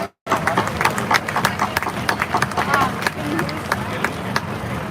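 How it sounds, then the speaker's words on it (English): A crowd at the 2022 Memorial Day Parade in Washington, D.C. breaks into applause for the parade announcers, dense clapping that starts abruptly and carries on steadily, mixed with crowd noise and some talk. "let's have a rousing round of applause for our announcers, Mark Kessler and Blanquita Cullum"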